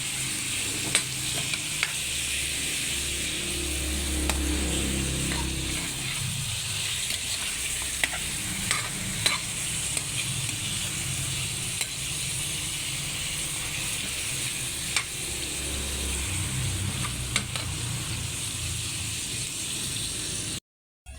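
Chicken pieces stirred in a hot frying pan for tinola, a steady close sizzle and hiss with repeated scraping clicks of the spatula against the pan, no talking.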